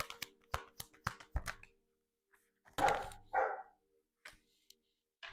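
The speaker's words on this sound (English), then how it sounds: "Again, sorry about the dog." A nine-month-old golden retriever barks indoors: a quick run of short, sharp yaps, then after a pause two fuller, louder barks and a couple of faint trailing sounds, with no one talking.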